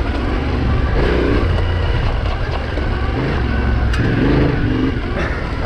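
A Yamaha Tenere 700 adventure motorcycle rides a rough dirt trail on Rampart Range: a loud, steady engine drone blends with rushing wind and rumbling tire noise, with no clear speech.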